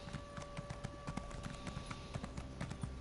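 Horse hooves clip-clop in The Elder Scrolls video game, a quick, even rhythm of soft, close hoofbeats that continues steadily with no talk.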